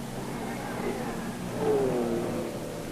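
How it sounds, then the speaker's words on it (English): A 2-litre Frazer Nash coupe race car pulling into the pits at the 1953 Le Mans 24 Hours, its engine a steady mid-distance drone that swells slightly, alone without talk. "And here's the Coupe Fraser-Nash coming in."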